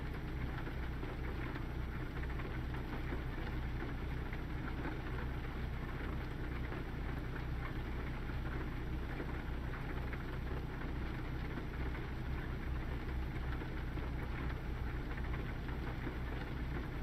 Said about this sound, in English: We've got the rain.